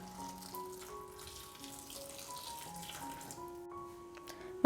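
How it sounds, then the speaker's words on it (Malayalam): Hot water is poured into rice flour in a bowl for Kerala-style idiyappam dough, a quiet steady trickle with shifting pitch that ends in a sudden knock. "ആവശ്യത്തിനുള്ള വെള്ളം കുറച്ചായിട്ട് നമുക്കിതിലേക്ക് ഒഴിച്ചു കൊടുക്കാം."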